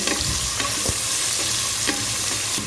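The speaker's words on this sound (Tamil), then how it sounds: "இப்போ இந்த வெங்காயம் நல்லா வதங்கட்டும்." Thinly sliced onions sautéing in a pan for mushroom biryani, a steady close sizzle broken by a few scrapes and taps of a stirring spoon, with no talk.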